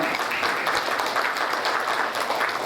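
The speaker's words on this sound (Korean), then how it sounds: "큰 박수 받아주세요." A crowd at a community advisory council launch ceremony in Atlanta claps steadily to welcome an introduced guest, an even, moderately distant wash of applause with no voices over it.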